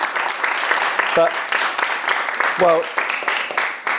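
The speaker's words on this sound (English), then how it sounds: "I'm also not used to applause for that speech, so thank you." Audience applause after a speech in a hall, a steady wash of clapping filling the room, with a few brief spoken interjections over it.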